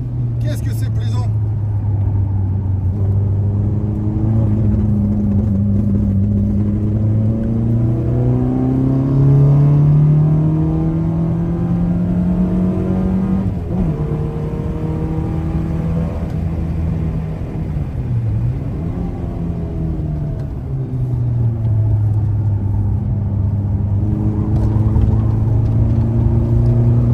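Citroën AX GT small hatchback lapping a race circuit, its engine droning loudly throughout with pitch rising and falling through gear changes and corners, heard from inside the car.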